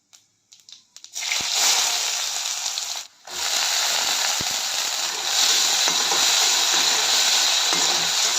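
Rice sizzles as it is stir-fried in a pan for breakfast fried rice. The sound is a loud, steady hiss that starts after a few soft clicks, breaks off briefly and then resumes.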